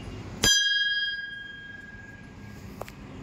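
A single bright metallic bell strike at a temple rings out and decays slowly with a sustained tone, followed by a faint second tap, close by in a quiet setting.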